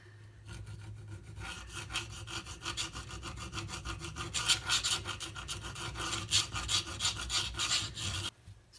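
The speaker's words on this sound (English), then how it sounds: "I am tilting the knife this way into the stone, so I'm only getting this area." A Spyderco Para 3 knife blade grinds against a sharpening stone in steady back-and-forth rasping strokes, close and moderately loud, the strokes growing brighter and more forceful partway through before stopping abruptly.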